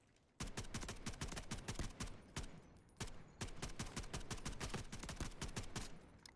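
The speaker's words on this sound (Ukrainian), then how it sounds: "Це ж він в когось тут стріляв тільки що." Rapid gunfire in the video game Delta Force, dense sharp shots in steady bursts with a brief break around three seconds, fairly faint overall and without talk.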